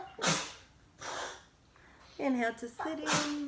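A sharp sneeze bursts out early, followed by a calm voice giving spoken instructions, with another short burst near the end.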